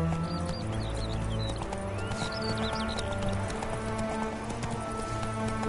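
Roach the horse galloping in The Witcher 3, with steady, close rhythmic hoofbeats throughout and some whinnying sounds over the top.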